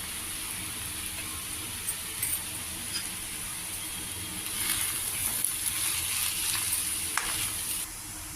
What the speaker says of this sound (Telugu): చిన్నగా కట్ చేసి పెట్టుకున్న ఉల్లిపాయ ముక్కలు ఇది కూడా వేసుకుని బాగా మిక్స్ చేసుకుని కాస్త ఫ్రై చేసుకోవాలి